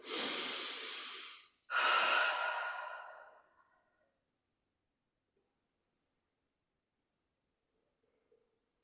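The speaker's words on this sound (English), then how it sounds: "You could take some deep cleansing breaths." Two long, deep breaths, each a slow rushing inhale or exhale lasting about two seconds, taken close during a Pilates session done lying in bed, followed by several seconds of near silence.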